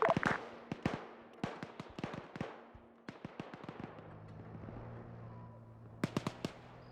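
Gunfire in the Arma military video game crackles in rapid, irregular bursts of sharp shots, some close and loud, others thinner and more distant, over a low steady engine-like hum.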